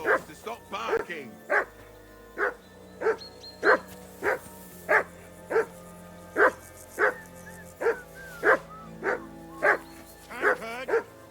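Dog barking in the video game Kingdom Come: Deliverance 2, a steady run of loud, evenly spaced barks over about eleven seconds with a low ambient drone underneath.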